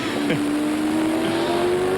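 Onboard a Ford Falcon touring car racing at Bathurst in 1992: a steady, loud engine drone holds one pitch throughout, with a brief scrub of tyre noise early on and no talk.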